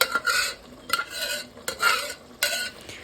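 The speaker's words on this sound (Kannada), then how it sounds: "ಚೆನ್ನಾಗಿ ಮಿಕ್ಸ್ ಮಾಡಿದ್ಮೇಲೆ ಅದನ್ನು ಫ್ರೈ ಆಗ್ತಿರುವಂತಹ ವೆಜಿಟೇಬಲ್ಸ್ ಮೇಲೆ ಹಾಕಿ" A dal mixture is stirred into vegetables frying in a pan for dal khichdi. Four distinct bursts of sizzling and scraping come at roughly regular intervals, each swelling and fading, close up with no voices.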